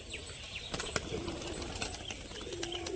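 A hand-tumbler pigeon flutters nearby, its wings beating in quick soft flaps with a faint coo-like murmur, amid low background noise.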